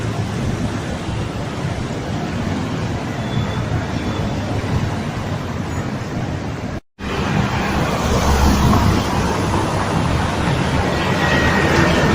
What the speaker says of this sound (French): Il y a une forte mobilisation de voitures.